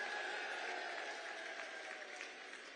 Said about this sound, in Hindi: जोर से ताली बजाओ सैनी जी के लिए